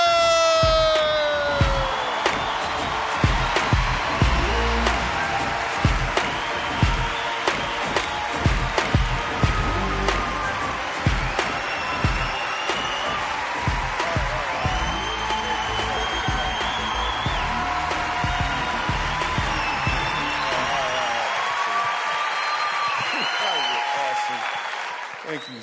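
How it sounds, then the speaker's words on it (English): Loud, sustained applause from a live comedy audience greeting comedian Michael Jr. as he takes the stage, dense clapping with some cheering that carries for about twenty seconds before cutting off abruptly. "why y'all stop clapping?"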